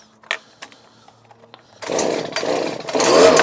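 A Stihl handheld leaf blower starts up and warms up, its loud, steady whoosh holding with slight surges after a few quiet clicks and knocks of handling beforehand.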